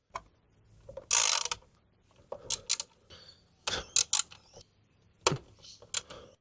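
A ratchet works loose 10mm bolts on an engine's coil cover, in short bursts of quick metallic clicking separated by pauses and small clanks, close up and without speech.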